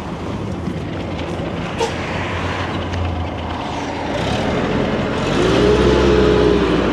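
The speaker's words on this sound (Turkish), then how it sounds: "maşrutumuza bineceğiz ve kırsala doğru yol alacağız" A marshrutka minibus drives along a road toward the countryside, its engine a steady broadband rumble and road roar throughout, swelling louder near the end, with no talk.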